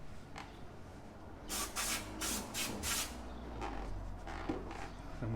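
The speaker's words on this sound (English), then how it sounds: "I'm going to hit it with some brake cleaner." Brake cleaner sprayed from an aerosol can onto Volvo S60 front brake parts, a series of loud, close hissing bursts of about a third of a second each over a steady background hum.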